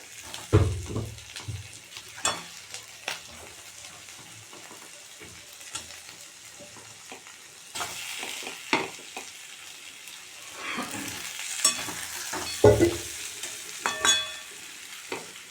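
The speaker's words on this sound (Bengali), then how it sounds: "পেঁয়াজ ক্যাপসিকাম রসুন এগুলো মোটামুটি ভাজা হয়ে গেছে এবার দিয়ে দেবো আলুটা" Onion, capsicum, garlic and potato sizzle steadily in a pan for soybean curry, with repeated sharp scraping clatters from stirring and a louder burst of hissing midway.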